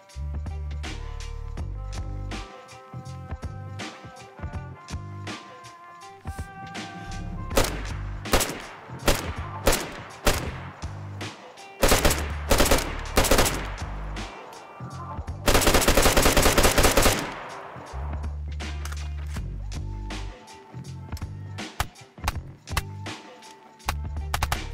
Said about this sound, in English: They've added the AUR AX assault rifle.